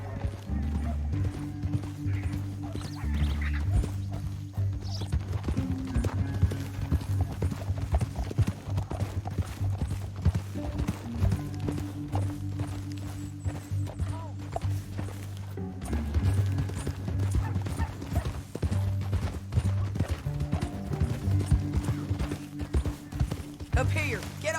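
Horses trot across a canyon in the Red Dead Redemption 2 video game, their hooves clip-clopping in a steady rhythm alongside an occasional whinny, with characters talking and a low musical score running underneath.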